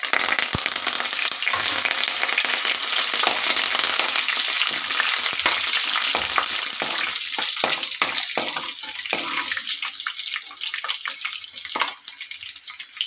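Curry leaves crackle and sizzle in hot oil for a tomato curry, a steady, loud frying hiss with sharp pops and spits scattered throughout, close up and with no voices.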